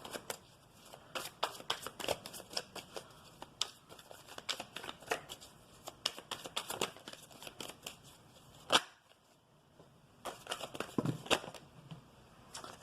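Tarot cards are shuffled close by, with quick papery riffles and flicks in bursts, a brief pause, then more shuffling.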